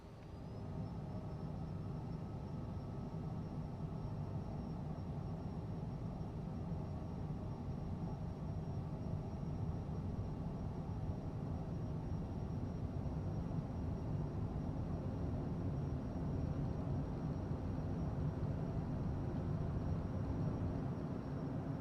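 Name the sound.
Cessna aircraft taking off in video game Tailstrike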